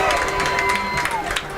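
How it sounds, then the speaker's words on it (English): Crowd applause and cheering from the home stands at a high school football game, the North County Raiders hosting the Rolla Bulldogs, rising after a tackle near the goal line; a steady, moderately loud wash of clapping and shouts with a commentator talking over it. "That draws the applause for the North County faithful."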